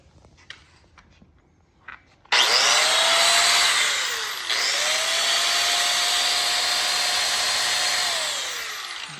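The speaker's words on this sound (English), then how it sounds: "saw with a metal cutting cutoff wheel in it to make a nice straight line, and let's see how this works out." A Dremel saw fitted with a metal cutoff wheel cuts a Cessna 182 tail access panel, whining loudly and steadily up close in two long passes, its pitch dipping briefly under load.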